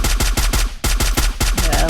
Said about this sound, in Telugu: అదిగో వాడు పైన నుంచి కాలుస్తున్నాడు కదా ఆ టవర్ కాడ నుంచి